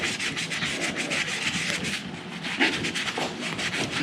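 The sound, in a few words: scrubbing an old aluminum wheel between rivets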